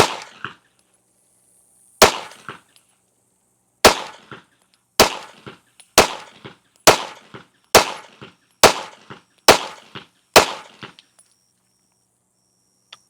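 A G3C pistol fired with iron sights, ten sharp loud shots, the first few spaced apart and the rest in a steady rhythm about one per second, each ringing out briefly into silence, with no voices.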